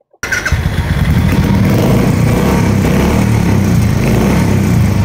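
A Royal Enfield Bullet motorcycle fitted with a customised silencer idles loudly and close by, its deep thumping exhaust pulsing steadily and continuously after a brief silent start.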